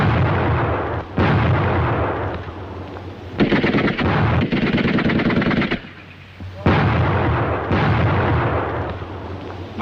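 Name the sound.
grenade explosions and gunfire in a battle charge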